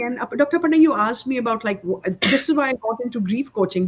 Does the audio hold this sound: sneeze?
yes